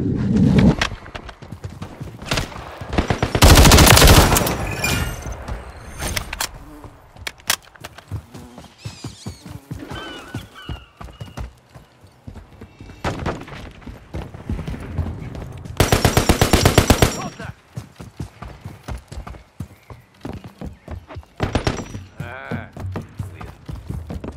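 Automatic fire from an MTZ-556 assault rifle in the Call of Duty MW3 video game during a Team Deathmatch on the Rundown map, with loud rapid bursts amid continuous game action sounds.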